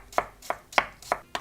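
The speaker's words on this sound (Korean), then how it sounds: "얇게 그냥 썰어주세요. 채 써세요." A knife slicing potato thinly on a cutting board: five crisp, evenly spaced chops in quick succession, close and clear with no talking.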